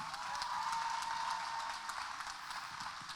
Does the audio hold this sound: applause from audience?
yes